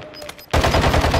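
Automatic gunfire from a Call of Duty: Warzone 2.0 match bursts in loud and close after a quieter half-second, rattling as a rapid, steady stream of shots to the end.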